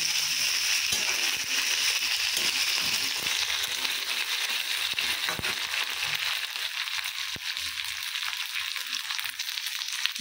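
Ginger and garlic fry in a hot pan, a steady broadband sizzle with scattered crackles and pops running continuously, close and fairly loud, with no talking.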